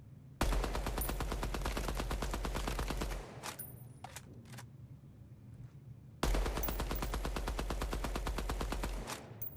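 Automatic weapon fire in the video game Midnight Society comes in two long, loud, rapid bursts of evenly spaced shots, separated by a short gap with a few single cracks.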